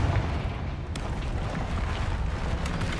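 A Confringo fire-blast spell in Hogwarts Legacy erupts as a loud, rumbling explosion with a sharp crack near the start, followed by a sustained roaring, crackling wash that lingers for a few seconds.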